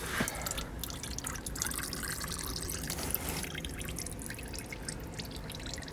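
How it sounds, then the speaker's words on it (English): Warm engine oil from a 2011 Jeep Compass drips and trickles into a drain pan during an oil change. The patter is close and irregular, with small splashes over a steady liquid trickle and no talking. "I'm gonna let that drip for just a second, try to get some of that off of there."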